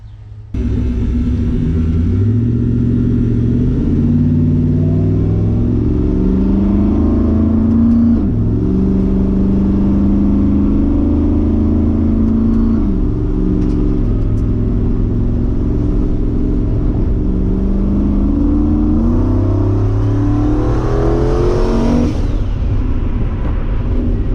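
A turbocharged car drives down the road, its engine droning and rumbling as it repeatedly revs up through the gears, pitch rising and dropping with each shift, ending in a higher whooshing whine, steady and close throughout.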